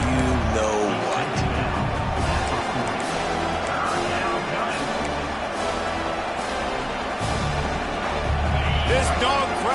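A football stadium crowd roars on third down during a Georgia college game, a dense sustained wall of cheering and noise beneath an announcer talking over it.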